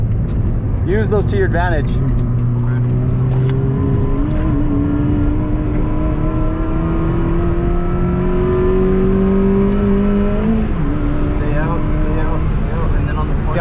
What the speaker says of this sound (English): See, I'm on full throttle here.